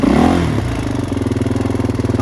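A four-wheeler ATV engine, started with the clutch held in, cranks and catches, then settles into a close, steady, pulsing idle.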